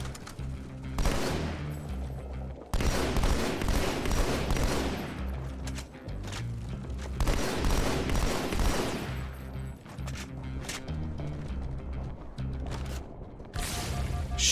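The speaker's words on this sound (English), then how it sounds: "Didn't mean to throw that grenade." Heavy gunfire and a grenade blast from Halo 2: Anniversary gameplay, with loud, dense bursts of automatic fire and booming impacts that go on almost nonstop for about fifteen seconds.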